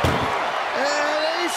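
An ambulance door is slammed shut in the WWE 2K24 video game, a sharp bang at the start followed by crowd noise and a commentator talking.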